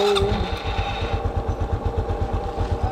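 A motorcycle engine runs steadily close by, its low exhaust pulses thumping in an even rhythm with no voices over it.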